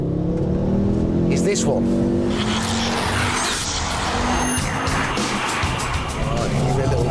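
On a track, a Ford Focus RS engine revs hard as its tyres squeal and skid, loud and continuous, with someone talking over it.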